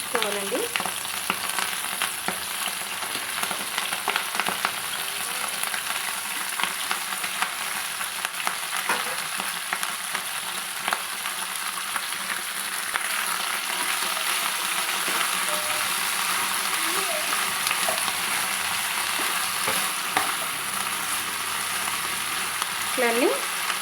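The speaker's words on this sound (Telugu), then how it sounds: "ఇట్లన్నీ కొంచెం కలర్ మారదాక ఫ్రై చేసుకోవాలండి." Nalleru leaves fry in hot oil, a steady close sizzle and crackle running the whole time with occasional stirring scrapes and no voices.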